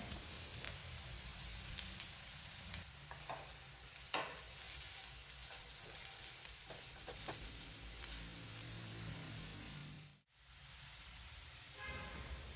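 Pumpkin pieces sautéing in a pan for a fry, a steady soft sizzle running throughout with occasional light scraping clicks from stirring, fairly quiet and without voices.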